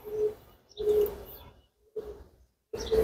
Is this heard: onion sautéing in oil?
no